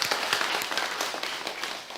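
A church congregation applauds its teachers during a Sunday service, dense steady clapping from many hands filling the room at a fairly loud level.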